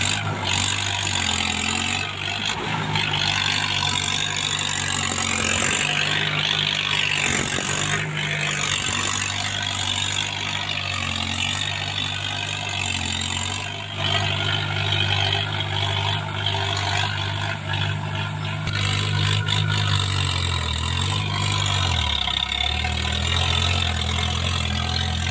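A Mahindra 585 DI XP Plus tractor engine chugs steadily in the open, a low, continuous running note with slight load changes and a dip near the end, with no talk over it.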